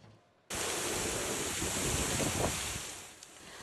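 Loud, steady roar of strong tropical storm wind in Southern California buffeting the microphone, a broad rushing noise that swells slightly and holds without pause.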